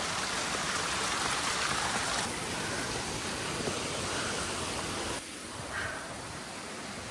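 Water flowing along a levada irrigation channel on Madeira, a steady, close rushing and babbling stream that continues without pause, with no voices.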